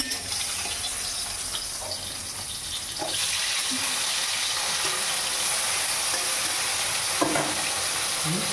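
Fish frying in a pan, a steady loud sizzle that swells after a few seconds into a continuous hiss with faint stirring scrapes.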